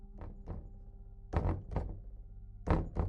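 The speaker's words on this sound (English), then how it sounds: "The knocking is closer." Heavy knocking thuds on a door set in a horror narration: about five dull, resonant knocks in uneven groups over a low droning ambience, fairly loud and close, with no talking.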